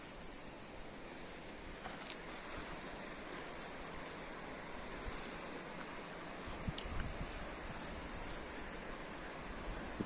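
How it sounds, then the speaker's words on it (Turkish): A stream flows beneath a garden, a steady broadband rush of water running throughout, with faint high bird chirps scattered over it and no voices. "kuşlar ötüyor, çayın sesi geliyor."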